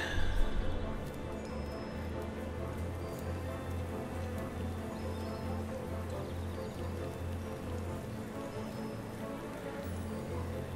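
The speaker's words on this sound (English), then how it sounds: "It does rain on this planet a lot." Rain falls steadily on a planet in the video game Starbound, a constant soft patter over a low background hum lasting throughout, with a slightly louder burst at the very start.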